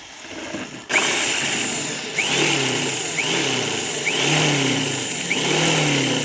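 A 6 mm drill bit bores steadily into a washing machine motor, a sustained whining grind with a few rising squeals as the bit bites, close and loud with no talk.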